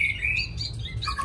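A caged hwamei, the Chinese songbird, gives a short burst of bright chirps and whistling squawks, close and fairly loud over a low background hum.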